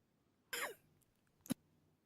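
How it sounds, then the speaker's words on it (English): A short coughing fit: a harsh burst of coughs followed by a second sharp cough a moment later, close to the microphone against a quiet background. "that was a bit of a coughing fit"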